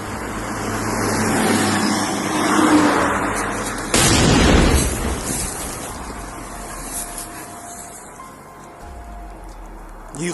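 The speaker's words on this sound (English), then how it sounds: "Reportedly, the explosion is triggered by a magnetic contactless sensor." A loud explosion bursts beside a fast-moving van on a road, set off by an FPV drone mine, cutting sharply through the engine noise and then leaving a rumbling, fading wash as the vehicle carries on.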